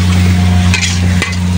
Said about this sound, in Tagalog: Ginigisa pa ni Chef Arnel yung pang sahog dito sa kaldereta